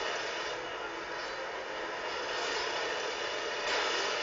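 A Transformers robot flies in jet plane mode in a video game, a steady, loud engine roar that drones on without a break and swells slightly near the end.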